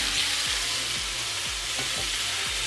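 Butter sizzles steadily in a hot pan beside beef tenderloin steaks, a loud continuous frying hiss with soft regular scrapes of stirring or basting underneath.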